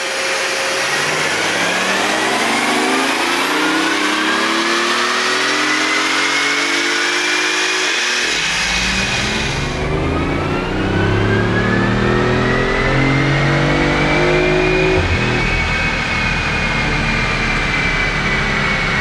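A BMW i8 hybrid revs hard on a dyno during a baseline test, its engine note climbing steadily, dropping briefly at a gear change, then winding up again loud and sustained with a whining drone.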